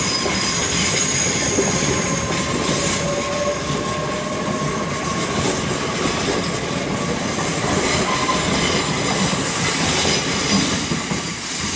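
A train departing London Paddington station for Cheltenham Spa, with loud, continuous rumbling rail noise, high wheel squeal and faint clickety-clack close by, and no talk over it.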